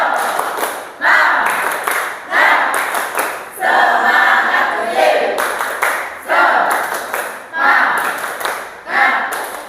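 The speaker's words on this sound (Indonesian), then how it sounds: "Tepuk semangat." A classroom of students performs a rhythmic spirit clap in unison, sharp bursts of clapping in patterned groups, close and loud, with some voices chanting along between the claps.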